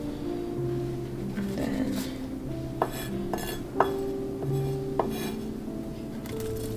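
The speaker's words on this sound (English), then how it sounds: "Chop up some of these ends like that" A knife chopping the ends of white pine needles, a few separate sharp taps on a cutting surface against a steady low background, with a brief spoken phrase.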